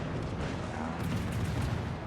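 Heavy naval guns booming at an enemy warship in a video game, a dense continuous roar of low rumbling blasts filling the whole stretch.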